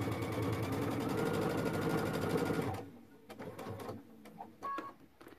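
A sewing machine runs steadily for nearly three seconds, stitching a quarter-inch seam on a modified cathedral window quilt, then stops, leaving a few soft clicks and fabric handling sounds close by.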